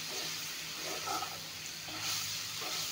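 Ingredients with green chillies frying in a pan for a young ash gourd and bhangon fish dish, a steady soft sizzle with faint stirring scrapes, close and fairly quiet.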